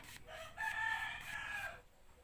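A rooster crows once, a faint, somewhat distant call held for about a second above quiet background noise.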